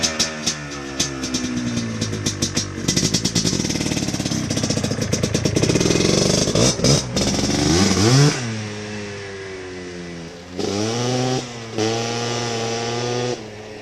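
Honda 350X and Yamaha Blaster ATVs in a drag race, engines revving hard with rapid rising and falling pitch sweeps, loud and close, shifting through gears over several bursts.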